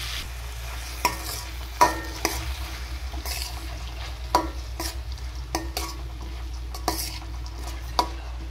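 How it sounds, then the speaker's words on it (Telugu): Soaked moong dal frying with onions in a pan on low heat, giving a soft steady sizzle broken by several sharp spoon scrapes and clinks against the pan, with no talking. "అంతా సిమ్ములో కొంచెం సేపు వేగనివ్వాలి."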